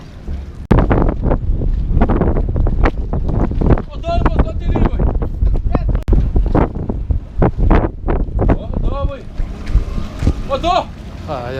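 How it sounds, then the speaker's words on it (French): Strong wind gusting across a marina pontoon during a storm, hard buffeting thumps against the microphone in irregular bursts, with people talking and exclaiming over the roar. "il y a tellement de vent, ils n'arrivent pas"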